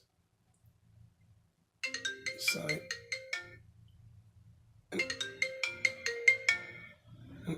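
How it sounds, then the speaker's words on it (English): A repaired iPhone 7 plays its ringtone: two clear bursts of bright, repeating melodic chimes separated by a pause. A voice briefly speaks. "if we want to change our ringtone"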